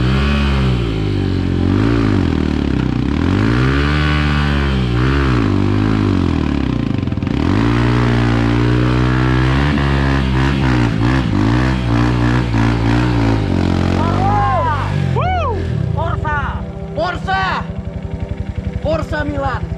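A motorcycle engine revs loudly and repeatedly up and down close by, rising and falling in pitch with clattering mechanical noise, then settles into a rough idle near the end.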